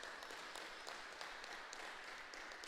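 Audience applause for the tournament desk staff at a fighting-game final, a steady, dense wash of clapping from a crowd that runs evenly throughout, with no voices over it.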